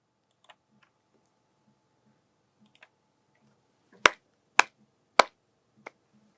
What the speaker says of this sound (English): record the clap sound.